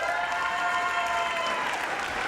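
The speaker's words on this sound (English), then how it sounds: "Biggest cheer yet, well done." Sustained applause and cheering from a large audience in a hall at a university graduation ceremony, loud and dense throughout, with voices mixed into the clapping.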